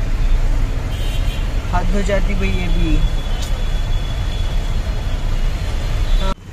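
Dense night-time road traffic at around 11 pm on a weekend in a city, a steady roar of vehicles with a few horn toots near the start, while someone talks over it inside a car.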